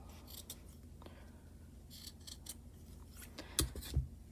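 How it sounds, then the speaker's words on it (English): Sharp scissors snip through crochet yarn while trimming a pom-pom, a few quiet scattered cuts that end in two louder, crisp snips near the end. "You're just going to go around and cut like this."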